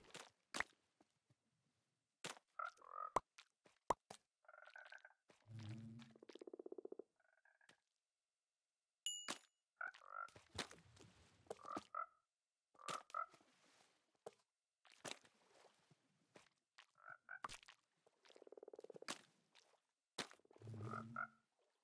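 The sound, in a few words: frogs croaking in Minecraft video game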